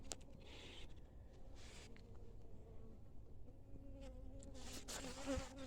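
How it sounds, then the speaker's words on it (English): Bees buzzing around a hive, a steady low drone with individual insects passing close by, fairly quiet outdoors. "There's the bees out on the front."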